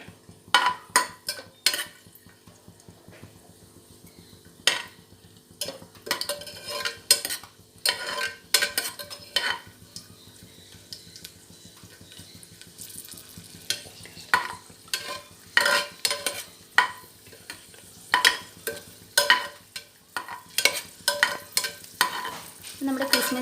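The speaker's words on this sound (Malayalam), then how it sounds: "നമ്മുടെ എണ്ണയും നെയ്യും ചൂടായാൽ നമുക്ക് ആദ്യം അണ്ടിപ്പരിപ്പും കിസ്മിസും ഒന്ന് വറുത്തെടുക്കാവേ." Cashews and raisins fry in hot oil and ghee with a soft sizzle, while a metal spoon stirs and scrapes the pan in repeated sharp clinks and taps.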